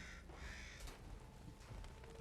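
A crow caws in a video game, Crisol: Theater of Idols, over a steady ambient background, giving a few harsh calls that sound fairly close.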